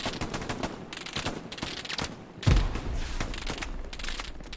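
Machine gun fire in the World War II shooter Hell Let Loose, rapid bursts of gunfire with a heavier blast partway through, crackling steadily at moderate loudness in a busy battle mix.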